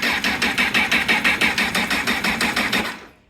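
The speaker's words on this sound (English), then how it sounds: "You'll have the kill switch off and the ignition on, and you can still turn the engine over." A 2017 Honda Rebel 500 engine cranks over on the starter with the kill switch off and never fires, giving a steady, even chug of about four pulses per second that stops abruptly after three seconds.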